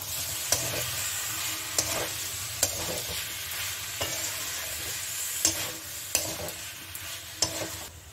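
Young jackfruit frying with spices in a pan, a steady close sizzle broken by regular scraping stirs of a spatula roughly every second, with no voices.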